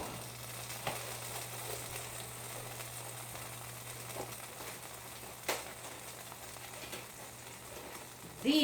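Vegetables sautéing in vegetable oil in a pan give a steady, soft frying sizzle throughout, with a few faint clinks and stirring noises and a sharper knock near the end.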